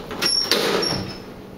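A hotel elevator door at the Wyndham in Deerfield Beach, Florida slides shut with a short mechanical rumble and a couple of soft clunks, then the sound fades toward quiet.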